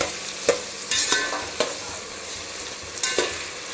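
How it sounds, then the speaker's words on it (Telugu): Food frying in a pan with a steady close sizzle, broken by a few sharp spatula knocks and scrapes spaced about a second apart. "చూడండి, ఇలా మంచిగా వేయించుకోవాలి"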